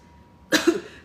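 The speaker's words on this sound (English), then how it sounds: "that was a weird cough" A single sharp human cough, close and abrupt, with a short second burst right after, breaking a near-silent pause.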